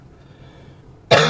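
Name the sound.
coughing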